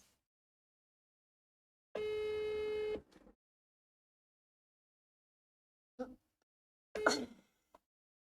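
A telephone line tone sounds during a phone call as a steady, loud buzzing note lasting about a second. Brief clicks and a short burst of sound follow after quiet gaps.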